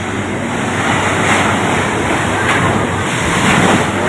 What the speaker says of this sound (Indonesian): Laut pantai selatan ngamuk.